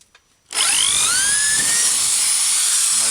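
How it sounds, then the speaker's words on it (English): A high-pitched power drill whines loudly and steadily after a brief quiet start, its pitch rising slightly as it drills out metal cap rivets on a vintage caravan. "you basically put the drill on, give them a push and drill through."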